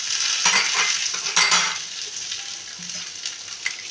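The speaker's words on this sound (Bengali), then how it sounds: "এবার আমরা এর মধ্যে দিয়ে দেবো, পেঁয়াজটা ভাজা ভাজা হয়ে গেছে" Chopped tomato tipped into a pan of fried onion, frying steadily with a bright sizzle and a few stirring scrapes, close and continuous with no talk.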